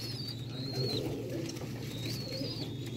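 Large pigeons at a breeding loft coo in low, steady throaty rolls, close and continuous, with a faint high tone drifting above; no speech.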